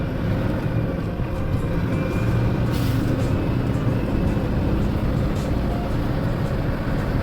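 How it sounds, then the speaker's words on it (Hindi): A heavy truck reversing on a sandy loading site where a crane stands, its engine giving a steady, loud, continuous rumble throughout with no breaks. "अब बस रिवर्स करके लगाते हैं।"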